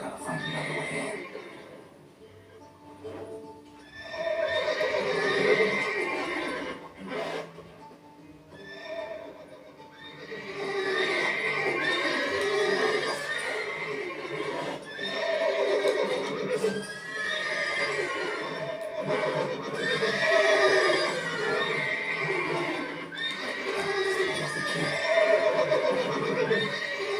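Several horses whinny and neigh repeatedly over a murmuring soundscape in the video game The Witcher 3, the calls overlapping at moderate distance.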